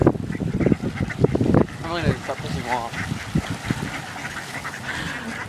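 Geese and ducks honk and quack in a dense, close chorus while being fed bread outdoors on a windy day, as a person talks over the calls.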